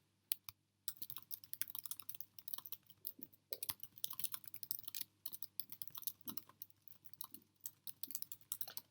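Typing on a computer keyboard to write a comment about local housing need: steady clusters of close, crisp key clicks in irregular bursts with brief pauses, no voices.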